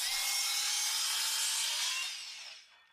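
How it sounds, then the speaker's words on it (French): A hand saw rasps steadily through wooden battens for a couple of seconds, close and loud, then the strokes trail off and fade. "Je coupe d'abord les extrémités propres de chaque tasseau."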